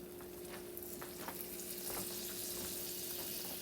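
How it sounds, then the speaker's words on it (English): Unsalted butter melting in a frying pan for beef stroganoff gives a steady, close sizzle and crackle with small popping bursts, continuous and even throughout. "into the pan we're going to melt unsalted butter"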